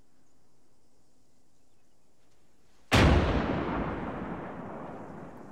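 Artillery fire in Arma 3: a single sudden heavy blast after near-silence, loud and booming, its rumbling tail slowly decaying over the next few seconds, no voices.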